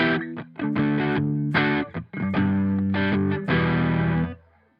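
Electric guitar through a Behringer Vintage Tube Overdrive pedal set for light crunch. Several strummed chords and short riffs ring out with slight overdrive grit, punctuated by brief stops, and the last chord is left to fade out. No voices.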